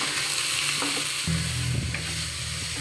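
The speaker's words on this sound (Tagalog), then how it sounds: "Ilalagay na natin yung ating chicken. Haluin lang natin." Chicken pieces stirred into sizzling sautéed aromatics in a pan for Filipino chicken tinola, a steady frying hiss with a spoon scraping and a thicker sizzle swelling as the meat goes in, close and without speech.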